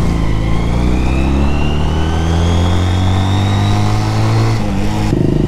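A Honda CD 200 Roadmaster, a classic two-cylinder motorcycle, revs loudly up close, its engine note climbing steadily in pitch before dropping off near the end.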